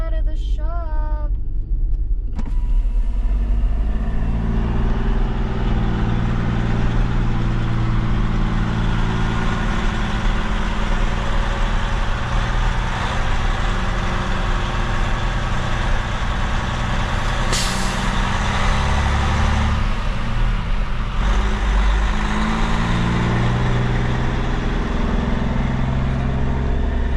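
Freightliner Columbia truck with an overhauled engine pulls out of a shop, its diesel rumbling steadily and loudly throughout, with a sharp air-brake hiss partway through.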